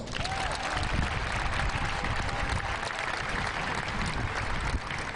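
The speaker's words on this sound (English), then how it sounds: "Y'all give her a round of applause." A crowd at an outdoor protest by athletic parents seeking the return of fall sports breaks into sustained applause, dense steady clapping that holds evenly for the whole stretch.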